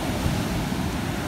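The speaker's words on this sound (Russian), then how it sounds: "посмотрите, какие волны" Ocean waves breaking on a beach at Mudjin Harbor in Turks and Caicos, a steady, broad roar of surf with wind, close and continuous with no voices.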